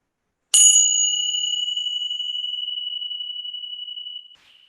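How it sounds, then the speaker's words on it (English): A meditation chime is struck once, ringing bright and clear, then holding a long steady tone that slowly fades to near silence over about four seconds. "listening to the chime until you cannot hear it anymore"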